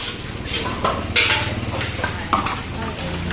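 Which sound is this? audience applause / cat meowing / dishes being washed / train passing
dishes being washed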